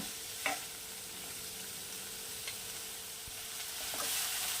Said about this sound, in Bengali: আর এটা দিয়ে কিছুক্ষণ নাড়াচাড়া করে নেব